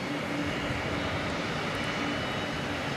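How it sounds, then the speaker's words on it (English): An Airbus A300 lining up on the runway at Dallas Fort Worth airport produces a steady, dense engine roar with a faint low whine running underneath, distant and unchanging. "Here's the A300 now lining up to take off."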